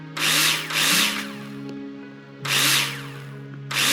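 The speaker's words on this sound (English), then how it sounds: "Take your drill out and screw them in." Power drill driving screws into plasterboard in the Builder Simulator video game, two loud whirring bursts that rise and cut off, with a lower motor hum carrying between them.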